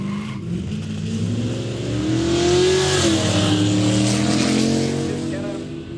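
Car launching at a quick street drag event at Kooralbyn Valley, engine revving up in a swelling roar that peaks midway and fades, loud and close, no talk.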